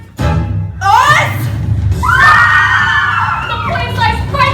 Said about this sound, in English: Women scream.